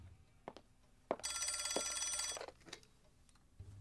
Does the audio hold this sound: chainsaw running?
no